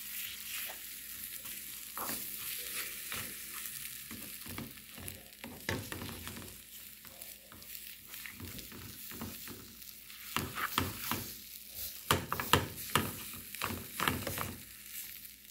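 Spinach and eggs fry quietly in a pan, a soft sizzle under repeated scraping and clicking stir strokes that grow busier toward the end, with no talking.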